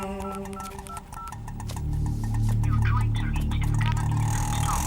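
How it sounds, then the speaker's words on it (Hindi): Telephone keypad tones beep in a quick series while a number is dialed, followed by a steady hum and low background noise that swells toward the end. "90 को फोन लगा।"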